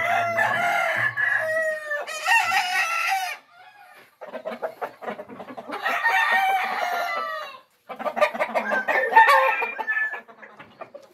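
Fighting roosters at a ranch crow repeatedly and loudly in long overlapping calls, with rapid clucking between crows and short pauses before new bursts.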